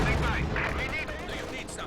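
Quad-mount half-track machine-gun fire in Company of Heroes 2 rattles in rapid, dense bursts with distant explosive crackle, loud and continuous.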